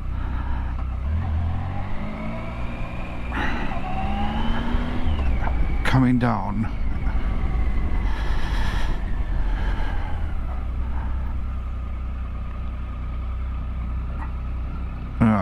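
A big tractor passes on a narrow country road in Pembrokeshire, heard from inside a Triumph Tiger Sport with its engine rumbling; people talk throughout and the passing machine swells loudest midway.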